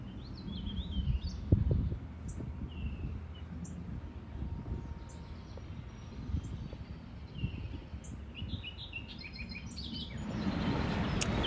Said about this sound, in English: I love hearing all the birds this morning.